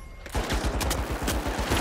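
Shotgun blasts in the video game The Finals ring out in a rapid run of sharp, loud booming reports after a brief quiet start, with the shots following close on one another.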